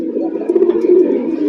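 A female pigeon kept for sale coos once, a soft, rolling, close-up call that lasts under two seconds, with no other sound around it.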